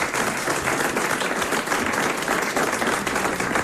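A studio audience applauds, a dense, even wash of clapping from many hands that holds steady and loud throughout, with no voices over it.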